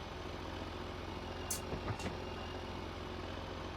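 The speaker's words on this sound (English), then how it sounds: "The tractor runs okay." A John Deere tractor engine runs at a steady idle on a Nebraska farm, a continuous low rumble with a couple of brief hissing clicks near the middle and no talking.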